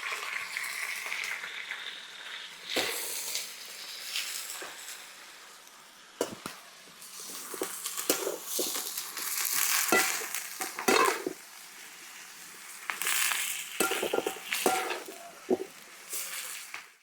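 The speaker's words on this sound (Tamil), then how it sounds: "கரிஞ்சு கொட்டி கீரை நல்லா எண்ணெயிலே இந்த வெங்காயம் தக்காளியோட வதங்குச்சுனாவே நல்லா இருக்கும்." Home-grown greens are sautéed in oil with onion and tomato: a continuous sizzle, broken by repeated scraping stirs and sharp metallic clanks of a spoon against the pan, close and fairly loud.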